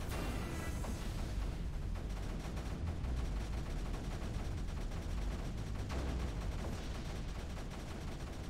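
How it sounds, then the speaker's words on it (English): Bertha cannon fire in the strategy game Creeper World 3, heard as a constant dense barrage of rapid shots and impacts at steady loudness throughout. "this Bertha is actually firing"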